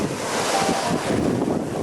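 Ocean waves at Maron beach, a shoreline near an army aviation area, roll in as a steady, broad wash of surf with wind buffeting the microphone throughout.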